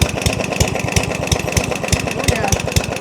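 A free lawn mower engine runs with a knock, a loud, rapid, even thumping like a hammer striking inside, close up while people talk nearby.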